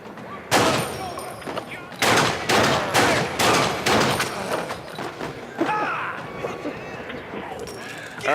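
Gunfire during combat in the Red Steel 2 Wii game: a rapid series of loud sharp shots and bursts spaced unevenly, followed by trailing impacts, with a voice speaking intermittently underneath.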